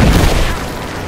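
A loud, booming burst of gunfire from the Rise of the Tomb Raider video game in the Wicked Vale, a single heavy blast that rumbles and fades over about a second.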